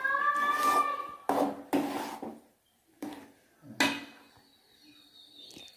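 A ladle scraping and knocking against a pan as a sweet is stirred with ghee, roasted cashews and raisins, a few distinct clanks and scrapes with quiet gaps between them.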